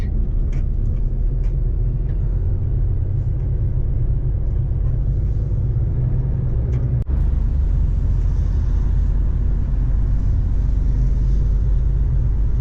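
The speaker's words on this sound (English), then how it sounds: "I love taking a truck through a city." A truck driving through a city, heard from inside the cab as a loud, steady low engine rumble with road noise, one brief knock midway, and no talk.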